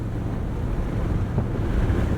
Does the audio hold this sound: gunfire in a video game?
no